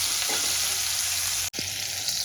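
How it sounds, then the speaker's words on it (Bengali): Nigella seeds and green chillies sizzle steadily in hot oil in a pan, a close, continuous frying hiss that cuts off briefly and then resumes. "ফোড়নটা একটু ভেজে নেব"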